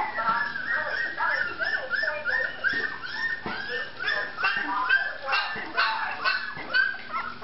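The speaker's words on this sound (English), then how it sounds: "Little puppies are getting mobile." Several puppies whimper and squeal in a continuous, high-pitched chorus close by, with soft shuffling between the cries.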